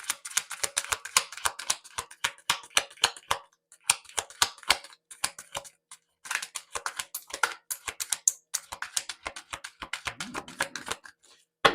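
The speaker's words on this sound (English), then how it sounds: "Let's get a couple more shuffles in here." Oracle cards riffle and snap in rapid bursts of crisp clicking, several shuffling rounds separated by short pauses, close and alone with no talk.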